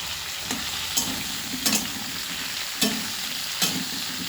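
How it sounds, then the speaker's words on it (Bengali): Potatoes, green chillies and tomatoes fry in a pan with a continuous sizzle, broken by several scraping stirs at irregular intervals. "আলু লঙ্কা টমেটো ভালো করে ভেজে নিচ্ছি।"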